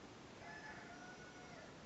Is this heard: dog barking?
no